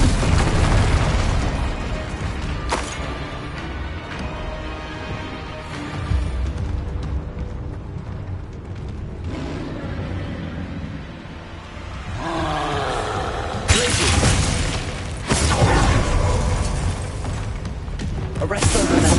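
Fire spell blasts and bursts from Incendio casts in Hogwarts Legacy, with several loud whooshing booms and crackles spread across the stretch amid game effects, and a voice talking in places.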